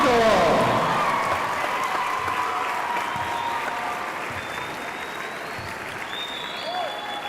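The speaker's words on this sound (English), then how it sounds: "Big round of applause for Damon Brooks from Round Rock High" A crowd at a high school basketball tournament applauds the slam dunk champion, sustained clapping that starts loud and gradually tapers, with faint voices and a whistle-like tone mixed in.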